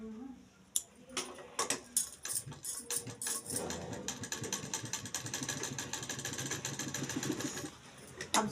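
A sewing machine stitches a concealed zip with a double line of stitching, a steady mechanical whirring chatter running through most of the stretch after a few short starts and stops, with light clicks.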